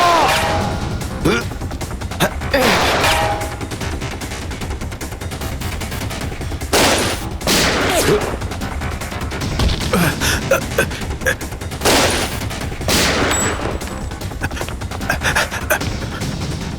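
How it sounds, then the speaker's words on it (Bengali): Gunfire in a TV crime drama shootout: several sharp, loud shots burst out at intervals over a tense background, with brief shouting in between. "সিআইডি অফিসারকে গুলি করে দিলি?"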